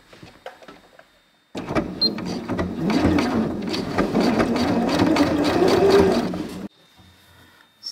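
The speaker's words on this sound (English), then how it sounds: "you can use the edge stitch foot to keep it nice and close" A sewing machine with an edge stitch foot stitches a tiny hem in one steady, continuous whirring run of about five seconds close by, with quiet handling before and after and no talk.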